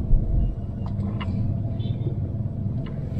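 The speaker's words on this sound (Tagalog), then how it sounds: "Oh, yan ang traffic yan." Road traffic outside a school at dismissal time, a steady low rumble of passing cars with a brief air-brake hiss, heard near and continuous without talk.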